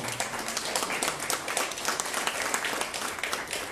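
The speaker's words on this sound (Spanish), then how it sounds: "Démosle una aplauso al Señor." A church congregation claps for the Lord, giving a close, lively burst of many hands that holds steady and dense throughout with distinct individual claps popping through, and no voices over it.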